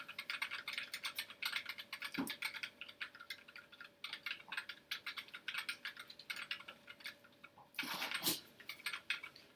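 Steady clacking keystrokes on a mechanical keyboard fitted with JTK switches, fairly quiet and close, typed in continuous runs with a louder rattle near the end.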